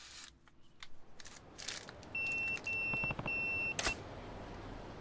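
Repeated electronic pager beeps from the Yakuza 0 video game, a few steady tones in quick succession, loud and clear with no talking over them.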